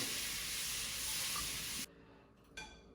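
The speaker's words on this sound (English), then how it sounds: "And we're just going to enjoy searing the meat." Meat for mutton goulash searing in hot melted butter, giving a loud, dense, steady sizzle that cuts off abruptly, followed by a brief quieter hiss.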